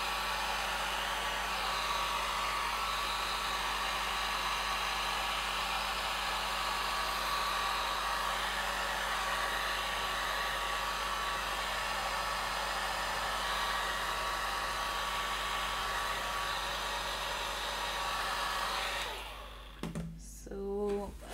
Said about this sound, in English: I'm just holding it at a distance so that I don't create any lines or textures with the dryer